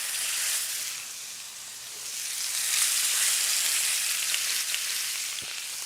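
Ribeye steaks seasoned with salt and pepper searing in a hot pan, a loud, continuous close sizzle that swells and eases slightly, with no talking.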